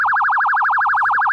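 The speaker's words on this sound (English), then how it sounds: "It's the break-in alarm!" A break-in alarm wails loudly and continuously, a rapid warbling electronic siren cycling up and down in steady pulses from start to finish.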